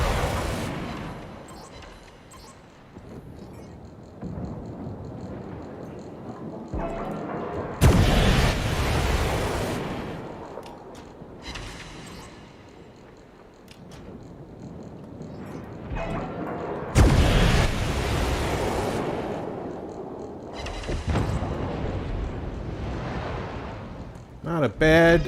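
Heavy naval gun salvos in World of Warships, deep booming blasts arriving in a few loud bursts separated by quieter stretches, with talk over parts of the clip.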